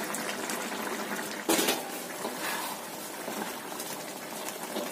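Chicken broth simmering as it cooks down and thickens, a steady fizzing bubble with one brief louder splash or clatter near the start, and no one talking.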